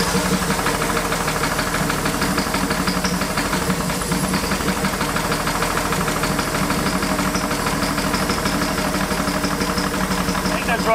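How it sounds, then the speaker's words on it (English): A burnt, long-abandoned Chevy Nova engine runs off its carburetor with a steady, rough mid-pitched drone and knocking vibration that stays loud and continuous throughout. "That's running off the carb."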